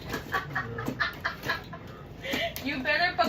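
A person imitates a clucking chicken with short, choppy clucks in quick bursts, mixed with casual talk in an indoor nail salon.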